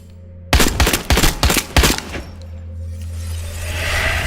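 Gunfire from the Resident Evil 8 video game teaser: a rapid volley of several loud, close shots with sharp cracks and booming low ends, about five bursts over a second and a half, then a fading rumbling tail with no speech.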